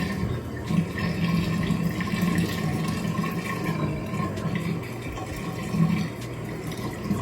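Water runs from a tap while a cotton pad is wetted, a steady splashing flow at close range with small fluctuations and no talking.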